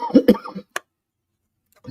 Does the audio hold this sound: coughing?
yes